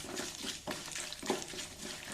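Peanuts fry in a pan for a beaten flattened rice (avalakki) recipe, giving a soft, steady sizzle with light scraping and stirring, quiet and without talk.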